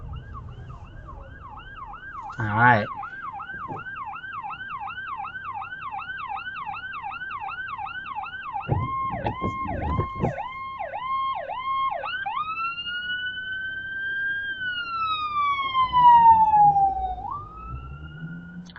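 An ambulance siren wails loud and close on the road, cycling through a rapid yelp and then a long rising and falling wail as it passes, with traffic noise underneath and a short spoken word.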